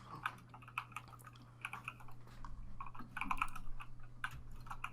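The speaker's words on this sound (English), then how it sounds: "Sorry, I'm typing." Rapid, irregular clicking of keys on a computer keyboard, close and fairly quiet, with bursts of typing strung across several seconds and a low steady hum beneath, no talk.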